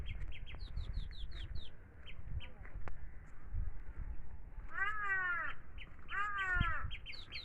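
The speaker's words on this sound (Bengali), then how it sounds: "শুনতে পাচ্ছেন পাখির কলরব" Outdoors on a cool morning, crows caw in two clear bursts of repeated harsh calls while smaller birds chirp quick high notes, with a faint low background rumble.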